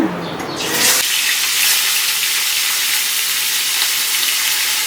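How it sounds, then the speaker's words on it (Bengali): Fish frying in hot mustard oil in a wok, a loud, dense hiss and crackle that erupts as the fish goes in and then holds steady, close up with no talking. "এবার মাছগুলো সব ভাজতে দিয়ে দেবো"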